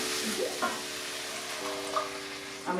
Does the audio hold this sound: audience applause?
no